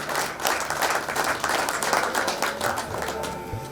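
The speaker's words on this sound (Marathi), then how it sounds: "जोरात टाळ्या आरशी कावाडकर साठी" An audience at an employees' gathering and award ceremony at the Bhiwandi bus depot bursts into loud, dense applause. Many hands clap continuously and nearby, the clapping holding steady before easing slightly toward the end.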